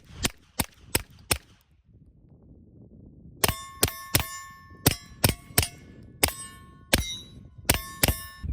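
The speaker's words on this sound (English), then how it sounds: "let's see how it sounds just shooting into the mountainside a couple times" Suppressed 9mm pistol fired with supersonic loads into a mountainside outdoors, a quick string of four sharp cracks, a pause, then about ten more evenly spaced loud reports with ringing metallic tails.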